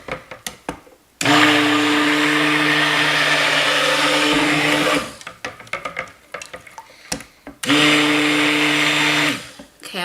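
Stick blender whirring loudly in two long bursts while mixing lye solution into cold process soap batter, close up, with short clattery pauses between runs.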